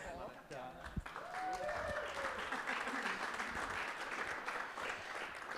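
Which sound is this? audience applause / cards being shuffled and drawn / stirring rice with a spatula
audience applause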